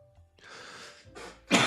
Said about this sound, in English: This cough is just